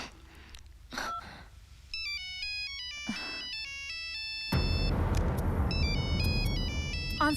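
A mobile phone rings with an incoming call, its melodic ringtone chiming in repeated bursts of bright tones, growing louder and fuller toward the end, with faint breaths between the rings.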